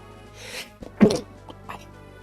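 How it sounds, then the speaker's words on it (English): A single sharp human sneeze, preceded by a brief breathy intake and followed by a couple of faint softer noises, close and fairly loud against a quiet background. "I had to sneeze there."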